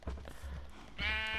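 Minecraft sheep giving a single short bleat, a quick nasal wavering cry at the end after a few soft game thumps, close and clear with no talking over it.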